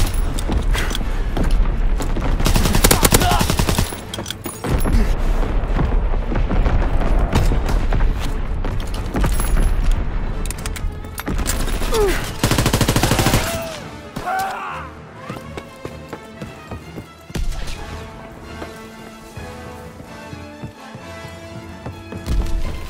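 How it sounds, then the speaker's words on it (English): Enemy artillery fire and gunfire in the video game Call of Duty: WWII, loud booming blasts and rattling shots for the first half, then quieter mechanical clatter and scattered sounds. "Incoming enemy artillery!"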